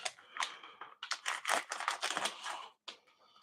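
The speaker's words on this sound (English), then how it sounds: "Old Lexan scissors out." Lexan scissors snipping through clear polycarbonate RC car body material, a close, quick series of crisp cuts and crackles with a short pause near the end.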